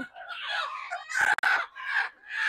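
A rooster crows loudly and close, a long strained call broken into several rising and falling bursts.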